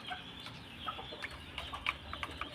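Young stag roosters calling in short, sharp clucks and squawks, scattered irregularly over a steady low background hum, moderately near with no talking.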